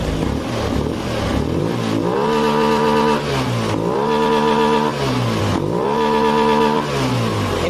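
A Honda Beat scooter engine revs hard to full throttle over and over, loud and close, each run climbing in pitch and then dropping back before winding up again, with no talking.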